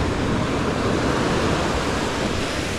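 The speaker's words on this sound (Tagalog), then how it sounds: "Kaya lumaking alon" Ocean surf roars as a continuous broadband wash, loud and close, with wind buffeting the microphone. Waves are running high after a night of rain and wind, and no voices can be heard.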